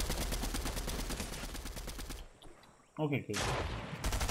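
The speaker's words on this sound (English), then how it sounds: "That was a lucky shotgun shot, too." Rapid gunfire from a shotgun and other weapons in the video game Fortnite: dense, repeated loud shots fill the first half, a brief lull, then more bursts, with a voice speaking briefly.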